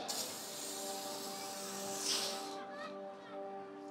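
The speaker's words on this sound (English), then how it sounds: "It's not really reliable if it keeps spraying after you stop." An aerosol spray can of clear coat hisses steadily on a guitar being refinished at home, a continuous close spray that keeps going for a couple of seconds and then tails off, with a faint tonal hum underneath.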